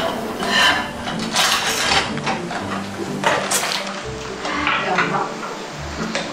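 Cooked instant Samyang noodles drained in a strainer set in a shallow pot, giving a steady clatter of metal and scraping, with a few louder knocks against the pot and no voices.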